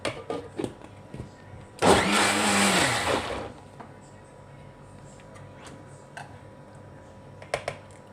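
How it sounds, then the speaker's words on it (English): A blender whirs loudly for about a second and a half blending an oats and mango smoothie, its pitch shifting as it runs, surrounded by quieter clicks and handling noises. "Now I am going to blend it once more."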